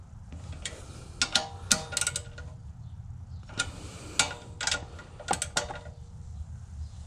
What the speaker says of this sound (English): They're nylon lock nuts, so I'm just gonna do them hand tight.